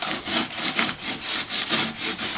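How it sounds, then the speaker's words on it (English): A hand saw cuts through pine wood in steady back-and-forth strokes, about eight rhythmic rasping passes in a couple of seconds, close and clear with no talking. "And then we can just cut along like this."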